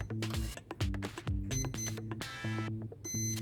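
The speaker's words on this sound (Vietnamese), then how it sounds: "Nó đang kêu tít tít tại vì mình chưa kết nối với cái TX á." A brushless 4000kv motor's speed controller gives out a run of short, close electronic beep tones in quick patterned bursts while it waits for the transmitter to link.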